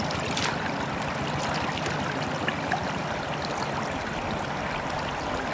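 Stream water flows steadily outdoors, a continuous, even rushing and trickling wash close by with no voices over it.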